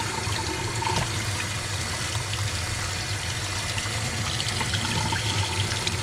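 Running water rinses a tie-dyed shirt dyed in rainbow crystal-and-gem colours, a steady close splashing stream like a tap or sink filling, continuous and fairly loud throughout with no talking.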